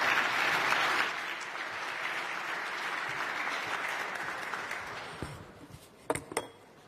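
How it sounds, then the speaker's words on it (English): Audience applause at an international conference in Berlin welcoming the Prime Minister of Ukraine to the podium: a steady wash of clapping that fades after about five seconds, followed by a few close footsteps or knocks. "Please join me with your applause in welcoming Prime Minister Denis Shmyhal of Ukraine to the podium."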